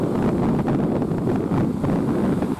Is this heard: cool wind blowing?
yes